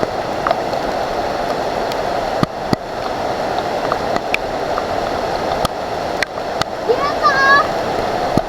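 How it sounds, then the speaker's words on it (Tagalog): Strong, cold mountain water rushes loudly and steadily over rocks on Mt. Banahaw, a dense close roar with sharp clicks on top, while people briefly call out nearby. "Lakas ng tubig oh."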